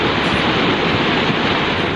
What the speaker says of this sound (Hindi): पानी का प्रचंड प्रवाह और सैलाब में फंसी सेंट्रो कार